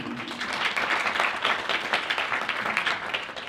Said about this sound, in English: encore un petit tonnerre d'applaudissements pour lui.